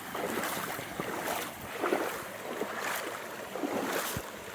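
A small waterfall in Christie Brook pours with a steady, broad rushing roar of falling water, heard up close and unbroken, with no voices.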